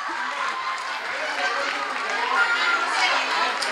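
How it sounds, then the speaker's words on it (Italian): A crowd claps in a dense, continuous wash of applause mixed with murmuring voices at a youth volleyball champions' awards party, honoring an Under 11 girls' team. "Un bel applauso."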